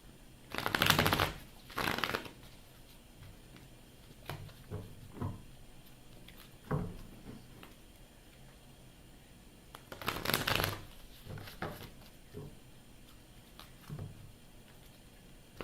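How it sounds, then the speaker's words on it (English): Tarot cards are shuffled by hand in several separate bursts of riffling. Two longer, louder shuffles are spaced apart, with softer taps and handling sounds between them and no talking. "I shuffled a lot."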